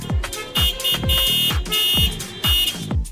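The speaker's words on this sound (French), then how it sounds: "tu passes sur l'alarme incendie" A fire alarm blares loudly and continuously, repeating a sweeping falling tone about twice a second.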